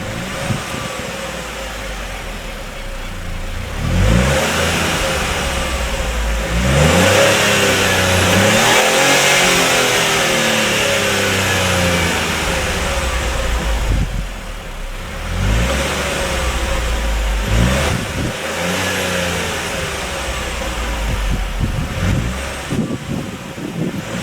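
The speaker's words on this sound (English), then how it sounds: "This car has the turbocharged 1-litre 3-cylinder petrol engine." A 2016 Opel Astra K with a turbocharged 1-litre three-cylinder petrol engine drives and accelerates, its mid-pitched engine note rising through several gear pulls with brief dips between, loud and close without any speech.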